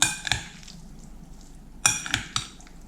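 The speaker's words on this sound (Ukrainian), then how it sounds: "Додаю 2 столові ложки майонезу. Салат вимішую." A spoon scrapes and clinks against a bowl in a few separate strokes, with quiet gaps between them, close by, as salad is stirred with mayonnaise.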